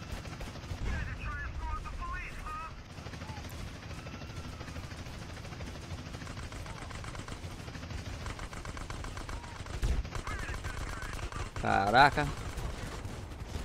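Police fire machine guns in the video game GTA San Andreas, rapid bursts of gunshots crackling under someone talking, with a louder burst near the end.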